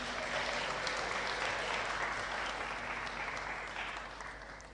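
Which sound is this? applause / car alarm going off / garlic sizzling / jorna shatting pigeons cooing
applause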